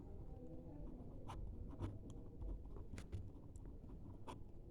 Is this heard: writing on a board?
yes